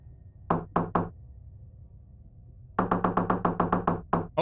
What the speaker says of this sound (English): I'm just gonna keep knocking